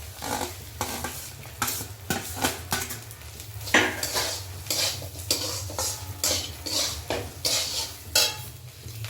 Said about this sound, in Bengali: এবার এর মধ্যে সুজিগুলো দিয়ে দেব। এবার আমরা ভেজে রাখা সবজিগুলোও দিয়ে দেব।